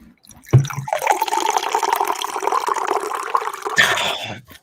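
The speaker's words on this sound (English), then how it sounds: "can you hold the glass up and pour it to the mic?" Wine poured from a box into a glass held up to the microphone, a close, continuous liquid stream gurgling and splashing for about three seconds before tapering off.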